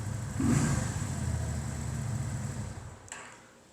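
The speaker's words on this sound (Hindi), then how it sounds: "वी ट्विन इंजन मशहूर है कि उनकी साउंड ऐसे लगता है पोटैटो पोटैटो बोल रहा है बाइक" A Lifan V16S V-twin motorcycle engine revs and then holds a steady, throaty mid-pitched drone for a few seconds before cutting back sharply near the end.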